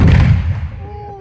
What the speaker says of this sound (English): Yeah, they fired the cannon.